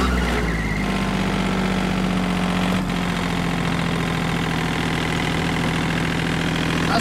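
A tractor engine idles steadily for several seconds, a close, even mid-to-low rumble with a constant vibrating hum and no change in revs.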